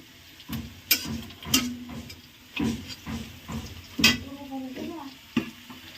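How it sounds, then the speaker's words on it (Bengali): Dal simmering in a pot while a ladle scrapes and stirs it, giving irregular knocks and clinks over a soft bubbling hiss, with a voice talking faintly in between. "এখানে রান্না হচ্ছে এখন ডাল আমি এদিকে ডালটা রান্না করছি"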